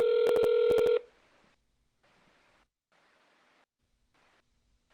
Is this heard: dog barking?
no